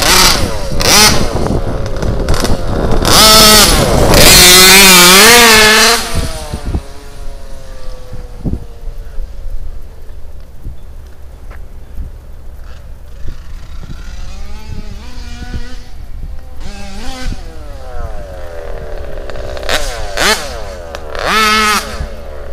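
An HPI Baja RC car with a gas engine revs loudly in bursts, rising and falling with sharp throttle blips, then idles unevenly with further revs near the end.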